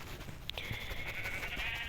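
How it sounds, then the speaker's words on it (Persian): A single sheep in Minecraft gives one drawn-out, wavering bleat, fairly clear against a quiet background hum. "بابا گوسفند، آی جون چو بابا خوشگله."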